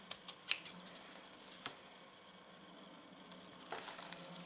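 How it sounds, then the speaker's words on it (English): Scissors trimming small bits off a cardboard Umbreon cosplay circle for shoulder armour, a few crisp snips near the start followed by faint rustling handling, close up and without speech. "just trimming little bits just to make it a bit more neat"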